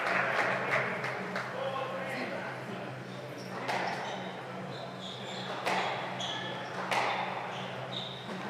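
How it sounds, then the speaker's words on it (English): Sustained crowd applause for the Namibian player during a table tennis match at the Namibian Open, a dense steady clatter of clapping throughout with a commentator talking over it. "And just listen to that applause."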